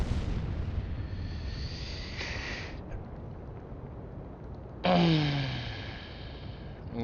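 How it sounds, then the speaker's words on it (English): Explosion aboard a burning warship in the Atlantic Fleet naval game: a sudden broad burst with a low rumbling tail, following a steady background hum and a brief earlier flare, fairly loud but not huge. "At least didn't seem like a huge explosion"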